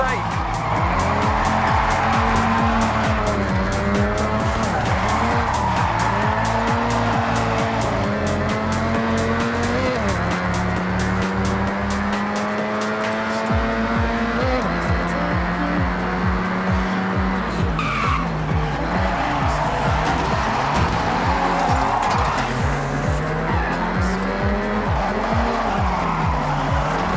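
Engine roar and long, wavering tire squeal from a car drifting in Forza Horizon 6, the revving pitch rising and falling continuously through the slides, with a voice talking over parts of the run.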